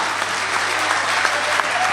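Audience applause at a Hindi kavi sammelan mushaira in Ichalkaranji, cheering in support of the poet: steady, dense clapping that fills the hall evenly, with a few sharper claps poking through, no voices over it.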